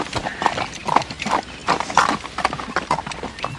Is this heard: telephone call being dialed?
no